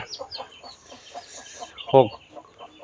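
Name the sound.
chickens with chicks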